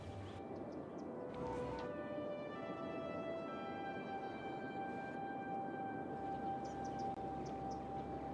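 Many ambulance sirens wailing together in a giant traffic jam in the city-building game Cities: Skylines, steady overlapping tones sustained throughout at a moderate, distant level.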